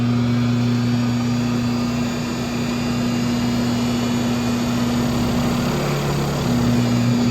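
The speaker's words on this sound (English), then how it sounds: "I can drive in and out of that flutter noise." A low, droning vibration with a fluttering rumble runs continuously from a GM van's aluminum driveshaft, like a vehicle driveline humming steadily under engine noise, the flutter coming in with road speed.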